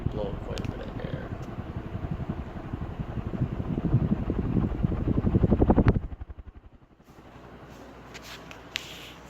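A NuTone Proline ceiling fan whirs steadily with a rhythmic pulsing whoosh that builds and then cuts out abruptly near the end, leaving a quieter room hum; a voice talks over the spinning blades.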